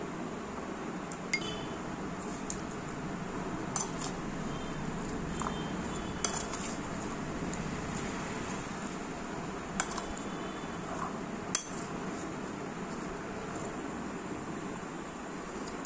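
Guava pieces being mixed in a bowl with sugar, chili powder, chopped green chili and kasundi mustard sauce, giving steady soft stirring and scraping with scattered sharp clinks of a utensil against the bowl, close and without voices.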